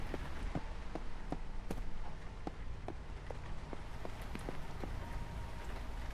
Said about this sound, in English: Rain fiercely patters against the window, as if it never intended to stop falling.